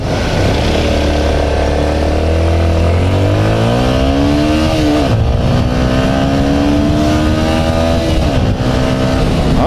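Yamaha MT15 150cc motorcycle engine, loud and close, climbing steadily in pitch through the gears with brief dips at each shift, riding along continuously.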